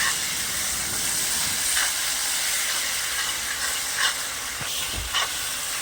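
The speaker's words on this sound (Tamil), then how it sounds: "நல்லா பொடியாக நறுக்கி 3 தக்காளி போட்டு நல்லா வணக்குங்க" Finely chopped tomatoes sauté in a pan for a Madurai-style chicken salna, giving a steady soft sizzle and hiss with occasional faint clinks and stirring scrapes.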